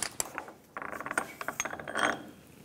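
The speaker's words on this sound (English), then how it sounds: "let's go ahead and remove this other mount bolt right here." A ratchet backs out a subframe mount bolt on a 2006-2013 Chevrolet Impala, giving a close series of rapid metallic clicks in short bursts with brief pauses between strokes.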